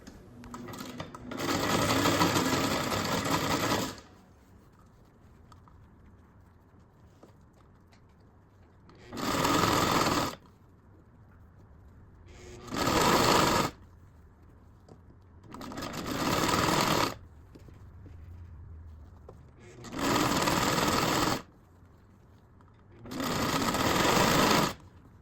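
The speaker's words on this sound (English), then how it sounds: "you're just going to sew right on the edges there" A sewing machine runs along the edges of stretchy soccer grip socks in five or six separate bursts of steady, loud motor whir, each lasting a few seconds, with quiet pauses between them.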